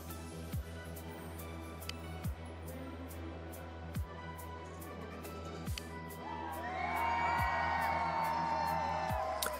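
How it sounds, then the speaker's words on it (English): A video game crowd cheers while a match is spectated: a steady wash of crowd noise swells louder toward the end, punctuated by regular sharp clicks. "I just love hearing the cheer when I go into spectate."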